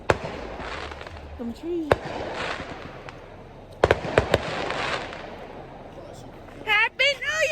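Neighbours' New Year fireworks bang and crackle from a distance in a run of sharp bursts, with sudden louder pops standing out. Someone talks over them now and then.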